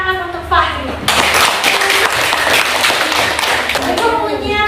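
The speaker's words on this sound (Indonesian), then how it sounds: "silakan beri tepuk tangan untuk Fahri." A classroom of students claps for a classmate, producing a burst of quick, fairly loud hand claps close by after the teacher's voice. The clapping runs for about three seconds and fades as she speaks again.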